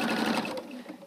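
A sewing machine stitching binding onto a quilt, a brief close mechanical whirr of rapid stitching that eases off toward the end, with no voices.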